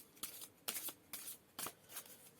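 Tarot cards shuffled by hand for a reading, four or five quick riffling bursts in an even rhythm, close and quiet, with no talk.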